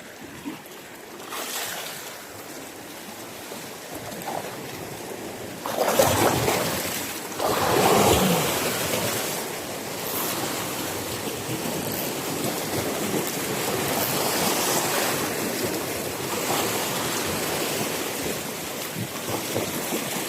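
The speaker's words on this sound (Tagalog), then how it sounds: "Masungit pa rin yung dagat." Rough sea surf rolls in continuously, a broad wash of breaking waves with gusts of wind buffeting the microphone, loudest in a couple of surges partway through.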